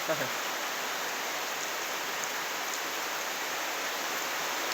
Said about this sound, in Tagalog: Tulo ng ulan. Kanina pa po yan, walang tigil.